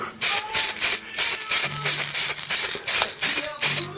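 Short bursts of spray paint hiss onto a Ford Cortina GXL car part during a rebuild, about ten rapid evenly spaced sprays close to the can, with faint mechanical clicks between them.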